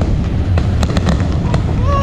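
Christmas midnight fireworks over Melaka's Jonker Street, a cluster of sharp crackling pops bursting in quick succession amid a busy crowd murmur, with voices chattering nearby.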